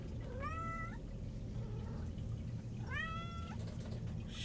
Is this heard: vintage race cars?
no